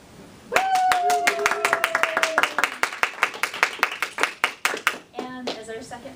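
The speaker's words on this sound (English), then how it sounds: "So we have to hoot and holler and applaud." Club members at a meeting clap and applaud together, sharp close hand claps in a quick, uneven rhythm that gradually thins out, with a drawn-out whooping voice near the start and brief voices near the end.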